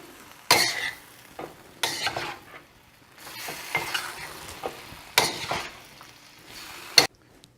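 A shrimp and mixed vegetable stir fry in spicy brown sauce is stirred in a pan, the utensil scraping and clinking in several short strokes over a soft sizzle.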